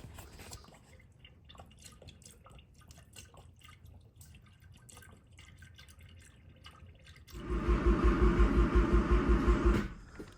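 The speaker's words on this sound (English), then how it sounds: "I'm gonna put some coolant in this thing" Coolant pours into the engine of a Mazda RX-7 in a steady liquid splash, loud and close for a couple of seconds after a stretch of quieter dripping and handling noise.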